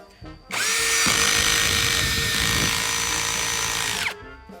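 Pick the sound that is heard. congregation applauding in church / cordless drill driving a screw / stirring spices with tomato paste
cordless drill driving a screw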